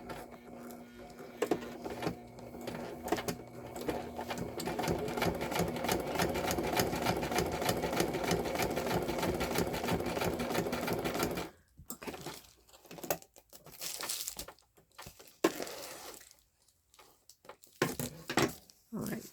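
Sewing machine stitching a padded envelope junk journal cover, running steadily and fairly close for about eleven seconds before stopping, followed by scattered handling and rustling noises.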